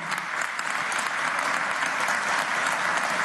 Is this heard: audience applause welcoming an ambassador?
yes